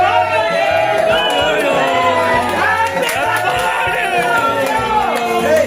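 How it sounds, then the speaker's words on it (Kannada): A crowd at a birthday celebration with cake cutting loudly shouts and cheers in unison, overlapping voices rising and falling continuously, with a steady low rhythmic pulse beneath the noise. "ಹ್ಯಾಪಿ ಬರ್ತ್ಡೇ ಕಾಂತರಾಜ್ ಸರ್ ಅಂತ ಎಲ್ರು ಜೋರಾಗಿ ಕೂಗಿ ಚಪ್ಪಾಳೆಯನ್ನ ಹೊಡಿತಾ ಇದ್ದಾರೆ"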